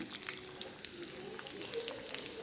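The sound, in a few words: dried chillies, curry leaves and shallots frying for tempering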